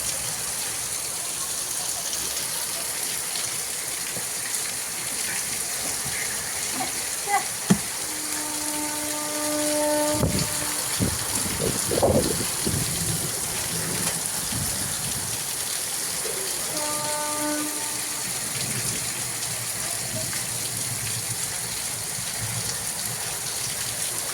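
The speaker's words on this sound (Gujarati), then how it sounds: "અમારા ગામનો વરસાદ સવારથી અત્યાર સુધી એમનો એમ જ ચાલુ છે" Heavy rain pours in a steady, close hiss that never lets up, with a couple of brief horn-like tones sounding partway through.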